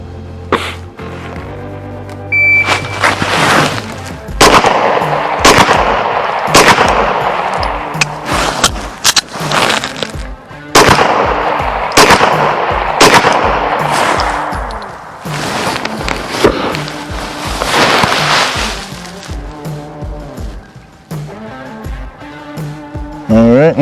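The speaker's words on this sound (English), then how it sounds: "First course of fire from the 25-yard line, 6 rounds, including immediate action drill" Pistol shots ring out on an outdoor range during a 25-yard qualification course, with a loud, close series of sharp cracks fired in quick bursts separated by short pauses, including a break for an immediate action drill.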